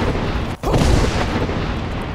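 A thundering dragon shout from a Skyrim mod hits as a loud, dense boom. It cuts out briefly and then rolls on as a heavy, sustained rumble with no talk over it.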